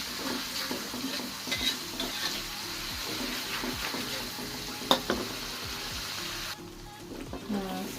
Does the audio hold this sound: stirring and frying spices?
yes